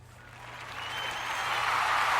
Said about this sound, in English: That's a good place for an applause right there.